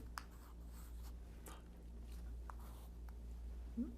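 A pen scratches out physics equations on paper in short strokes and taps, faint and close, with a quiet steady hum underneath and no talking.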